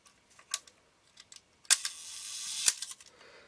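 A Nikon F film camera's shutter being cocked and fired while its mirror housing is worked on: a few soft mechanical ticks, then a sharp close snap, a brief whirring rattle and a second sharp click, alone.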